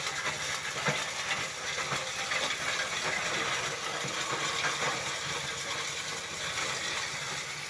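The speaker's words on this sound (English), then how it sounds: "Then you grind it using my chaff cutter or my grinder or my simple machine." A maize grinder or chaff cutter milling dried corn into chicken feed runs steadily, a loud continuous hissing, rushing roar with no pauses and no talk.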